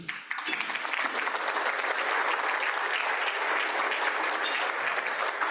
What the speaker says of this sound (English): we all owe a big round of applause for our members and volunteers